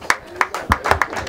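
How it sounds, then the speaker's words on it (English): A funeral service congregation claps for a reverend, a handful of distinct hand claps in an uneven rhythm, moderately near, with faint voices in the background. "Let us clap to Reverend."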